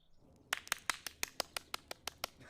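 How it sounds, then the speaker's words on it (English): A single person claps alone about a dozen times in a steady, fairly fast rhythm, each clap sharp and close, with only quiet room sound between them. "Why did I clap like that?"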